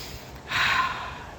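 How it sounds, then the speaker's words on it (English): A single close, breathy inhale through the nose as someone sniffs a blooming rose, lasting under a second against a quiet background. "Have a sniff."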